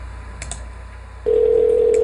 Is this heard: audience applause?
no